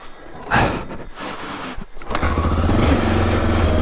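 A 1984 Honda XL600R dual-sport motorcycle is kickstarted, with a short thump of the kick followed by the single-cylinder engine catching and settling into a steady, close, loud idle.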